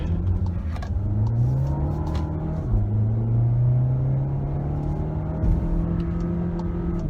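A 2023 Volkswagen Tiguan R-Line with a 1.4 TSI engine accelerates in sport mode, its engine note rising steadily with a gear change partway through, heard from inside the cabin as a continuous close drone.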